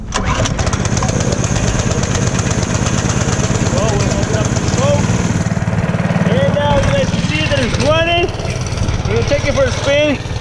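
A cheap used mini bike's small engine running loud and close with a steady rapid putter, while a person talks over it in the second half.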